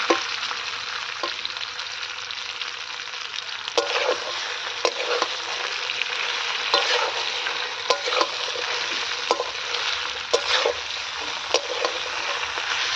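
Mustard and poppy seed pastes go into a pan for dudh shukto and cook with a constant low sizzle, broken by repeated clanks and scrapes of stirring against the metal, close up and without voices.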